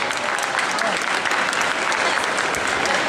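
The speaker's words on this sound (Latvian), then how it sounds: "Arī viņus vajadzētu sagaidīt ar aplausiem šos 10 pārus." A crowd claps warmly at a Latvian Latin dance championship as ten competing couples are welcomed, a full, even wash of applause filling the hall from start to finish.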